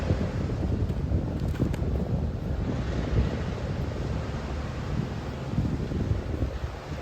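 Wind blows across a disc golf course at Jackson Park, a steady low rumble with gusty buffeting against the microphone, continuous and fairly loud with no talking.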